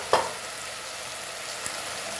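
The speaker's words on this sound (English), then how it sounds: "Let's fry this." Chili, turmeric and coriander powders frying in a pan for Goan-style masoor dal, a steady faint sizzle with a brief louder stir near the start.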